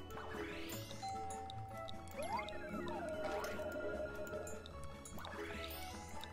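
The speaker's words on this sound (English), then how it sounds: "And the water's loading." Water filling and gurgling in the Dress Shop Hop video game, with liquid squish and drip effects, rising pour tones and a chime, running steadily throughout as a game sound effect.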